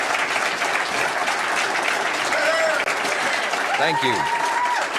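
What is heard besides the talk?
audience applause at a speech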